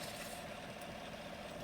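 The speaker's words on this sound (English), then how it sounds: "Everything is warmed up. Engine is still running." A warmed-up Chevy Silverado engine idles steadily just after a test drive, a low continuous rumble with a faint hiss, quiet and unbroken throughout.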